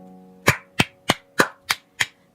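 One person claps after a woman finishes singing: six sharp, evenly spaced hand claps, close and distinct, with a faint hum underneath and no talking.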